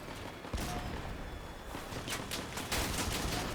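Volley gunfire from a weapon in the vehicle combat game Crossout, several sharp bursts of shots crackling over a noisy battlefield background, with a cluster of rapid shots toward the end.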